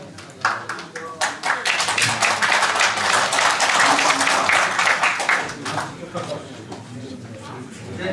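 Attendees at a business association's annual general meeting clap to approve a motion, the applause swelling quickly into a loud, dense burst, then thinning into scattered claps near the end.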